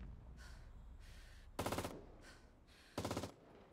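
A mounted turret machine gun in the video game CRSED: FOAD fires two short bursts of rapid, loud shots, separated by quieter background game sounds.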